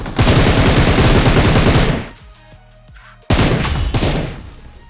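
Rapid bursts of automatic gunfire from a shooter video game while an enemy is shot, loud and dense, dropping out for about a second before a second volley.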